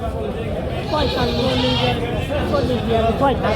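Castrated male goats bleat at the Barobazar village livestock market, a few wavering calls recurring close by over steady crowd chatter and people talking.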